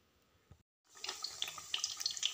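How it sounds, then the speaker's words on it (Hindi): Samosas sizzle in hot oil, a dense, close hiss that starts abruptly after a brief quiet gap and is speckled with small crackles and pops. "ये देखिए, मेरे समोसे फ्राई हो रहे हैं।"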